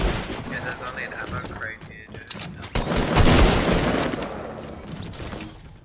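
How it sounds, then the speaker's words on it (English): Battle royale video game gunfire, quick bursts of automatic shots and mechanical clicks building to a loud, dense volley of close fire that tails off. "Stop shooting at me, dude."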